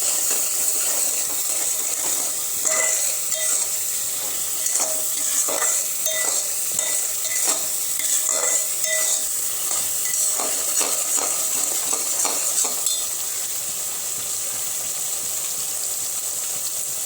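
Powdered spices are stirred in a frying pan for a restaurant-style vegetable Diwani handi, with repeated scraping strokes over a constant hissing sizzle. The stirring goes quiet toward the end and no one speaks.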